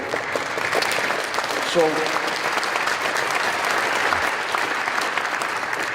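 A lecture audience breaks into applause, a dense, steady clapping that holds throughout with a brief spoken word and a short vocal sound heard over it.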